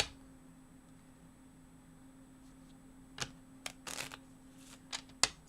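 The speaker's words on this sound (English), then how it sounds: "I'm going to shuffle the cards" Playing cards are shuffled in a quiet room, with a few short, crisp riffling bursts clustered near the end and no talking.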